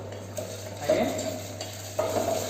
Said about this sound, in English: You have to saute onion garlic paste till the raw flavor of the onion and raw flavor of ginger garlic paste goes out.